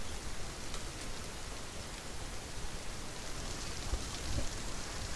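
Steady hiss of rain falling, a dense even wash with a couple of faint low thumps near the end.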